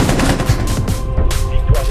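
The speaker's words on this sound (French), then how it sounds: "J'ai mis des balles à mon allié." Automatic gunfire in Rainbow Six, a steady loud rattle of rapid shots with a few heavier thumps, filling the short moment without talk.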